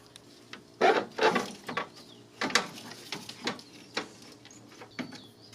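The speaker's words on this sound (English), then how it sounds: "So now I'm going to loosen the mounts at the top. 12mm bolts." A ratchet loosens the 12mm top radiator mount bolts on a Hyundai Elantra, giving a series of sharp, close clicks and short rasping strokes in an uneven rhythm.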